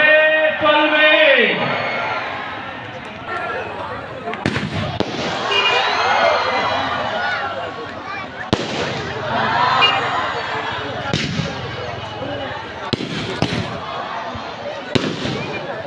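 Fireworks bursting at an outdoor cultural event, a run of booms and crackling pops with several sharp loud reports standing out, heard over steady crowd noise and a voice talking.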